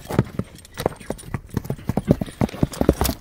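Horse hooves clip-clop in a quick, uneven rhythm of sharp knocks close by, a steady run of hoofbeats with no other sound over them.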